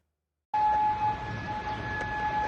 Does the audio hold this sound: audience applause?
no